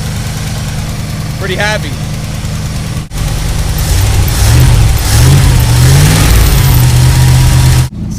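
A 1984 Dodge Ram W250 engine runs loudly up close after a fuel system repair, idling steadily and then revving up and down in several swells, with a brief spoken remark near the start.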